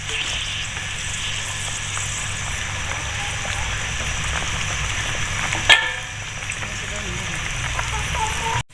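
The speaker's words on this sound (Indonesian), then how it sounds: "Kita aduk. Aduk." Vegetables, tofu and tempeh simmer in coconut milk, giving a steady bubbling hiss throughout, with a single sharp knock of a spoon against the pot partway through and a brief clatter right at the end.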